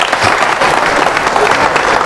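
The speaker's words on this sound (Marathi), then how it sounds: "तुम्ही सर्वांसाठी तुमच्या जोरदार टाळ्या होत्या" Audience applause at an MPSC quiz show held at a foundation in Amravati: dense, steady clapping fills the whole stretch at an even, loud level with no pauses.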